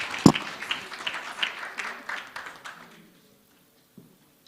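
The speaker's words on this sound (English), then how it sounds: "Please give him a warm round of applause." Conference audience applauding a speaker introduced on stage, a dense burst of clapping that fades out after about three seconds, followed by near silence and a single faint thump.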